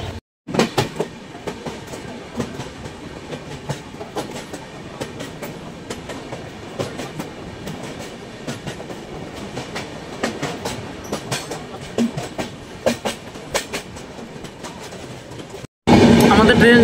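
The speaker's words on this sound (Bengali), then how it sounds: "আমাদের ট্রেন সান্থাই জংশনে ঢুকছে" The Saraighat Express runs along the rails with a steady, loud rumble and rhythmic clickety-clack of wheels heard from inside the carriage, ending in a brief burst of louder noise.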